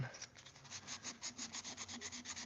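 Sandpaper rubs back and forth on a handmade knife handle in quick, even strokes, a dry rhythmic rasping close by with no talking.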